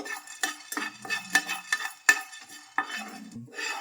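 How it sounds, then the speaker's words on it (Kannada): Black pepper dry-roasts in a pan for bisi bele bath spice powder: close, irregular scrapes and light crackles as it is stirred, with quiet gaps between the bursts and no talking. "ಈಗ ಮೆಣಸು ಹಾಕ್ಕೋತಾ ಇದ್ದೀನಿ ಇದು ಪಟ್ ಚಟಪಟ ಅನ್ಬೇಕು ಅಲ್ಲಿವರೆಗೂ ಸ್ವಲ್ಪ ಹುರ್ಕೋಬೇಕು"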